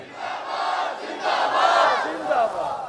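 A large crowd shouts a religious slogan in unison, a loud, sustained roar of many voices rising and falling in waves over about three seconds.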